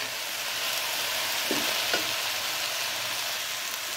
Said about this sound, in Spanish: Bueno, ahora vamos a agregar la pasta.